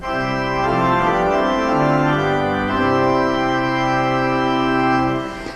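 A full pipe organ playing sustained chords with many stops combined, rich and loud, holding steady before cutting off at the end.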